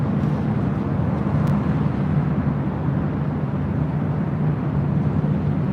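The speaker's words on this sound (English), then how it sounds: "Southwest Airlines Flight 2652 is 737-700" A Southwest Airlines Boeing 737-700 taking off at LAX, heard as a steady, broad jet roar with wind-buffeted rumble, constant in level throughout.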